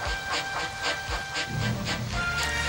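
An animated steam locomotive rumbles steadily with rhythmic hissing bursts of steam, a chugging pulse repeating about every half second, close and fairly loud.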